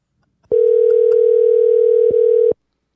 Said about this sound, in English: It's the phone ringing.